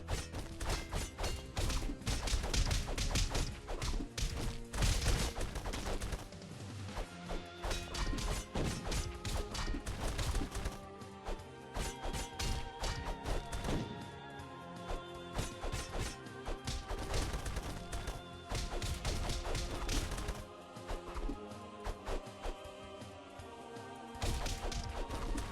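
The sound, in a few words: bombing explosions and crashes in a castle-crashing video game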